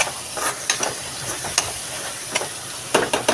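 A masala mixture for girmit sizzling and hissing in a pan, a steady close fry with sharp crackling spikes and scraping stirs at irregular intervals.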